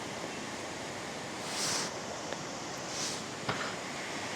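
A swollen hill river flowing strongly beside a bridge, a steady broadband rush of water with gusts of wind noise rising and fading.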